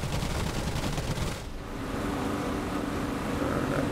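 Spitfire machine guns in the DCS flight simulator rattle in rapid sustained bursts over a steady engine roar, with a brief pause in firing midway before the dense chatter and drone resume.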